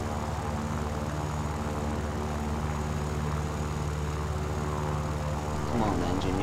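A failing Yak-3P fighter plane engine in War Thunder drones as a steady, loud, rough propeller-engine hum, continuous throughout and swelling slightly near the end.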